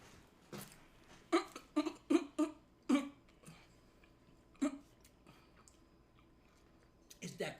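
Someone bites into and chews a SpongeBob-style secret burger, a cluster of close, crisp crunching bites followed by softer chewing and a few later crunches, with faint mouth noises between.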